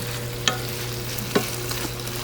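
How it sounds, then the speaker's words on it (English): A steady sizzle of chicken frying in a hot skillet, with a couple of sharp metallic clinks from stirring breaking through the crackle. "this skillet I think is hot enough now. See, we got our sizzle."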